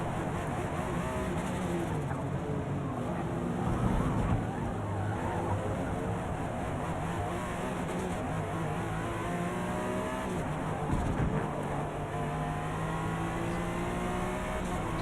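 Forza Motorsport race car pushed hard at speed, its engine holding a steady, continuous drone with shifting harmonic tones throughout, loud and close.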